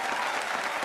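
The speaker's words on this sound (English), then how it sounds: "Thunderous applause." A crowd breaks into loud, thunderous applause for a brief moment, a dense wash of clapping with no pauses.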